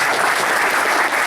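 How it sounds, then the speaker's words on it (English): Loud, steady audience applause fills the moment at an F3 group workout gathering, the second annual Invergence, a dense wash of many hands clapping with no voices on top. "So triple claps to you."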